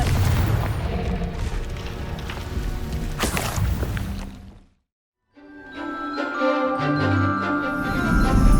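A Confringo spell explodes in Hogwarts Legacy, a loud boom and crackling burst that fades to brief silence before game sounds and music return.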